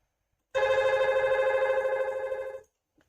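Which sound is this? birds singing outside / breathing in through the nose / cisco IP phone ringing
cisco IP phone ringing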